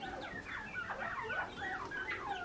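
Hens in a backyard chicken coop cluck and murmur softly to each other in overlapping, chattering calls, fairly faint and close, with no talking.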